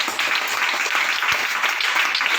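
Congregation clapping hands together at a fasting prayer meeting, a dense, steady wash of applause close by.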